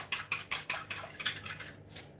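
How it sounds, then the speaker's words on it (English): An egg whisked in a bowl for a quick lunch recipe, about eight even, rapid clinking strokes, close and fairly quiet, fading out at the end. "So just going to whisk my egg, just give it a little mix in here like so"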